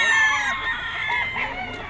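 A rooster crows at a gamefowl market during an early bird banded stag sale in Bocaue, Bulacan, with the call sounding loud and close over faint background chatter.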